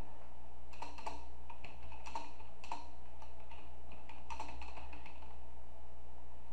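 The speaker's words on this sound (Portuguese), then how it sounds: "Então eu vou simplesmente digitar um texto aqui, um texto fictício" Typing on a computer keyboard while writing a text in Office Online: light, irregular clusters of key taps over a steady low background hum, close and moderately quiet, with no speech.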